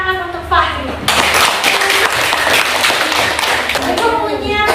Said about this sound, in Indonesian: silakan beri tepuk tangan untuk Fahri.